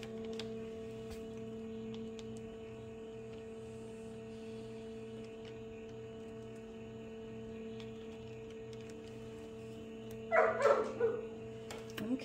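A dog barks in a short burst of a few yips and barks near the end, fairly close, over a steady machine hum that runs throughout.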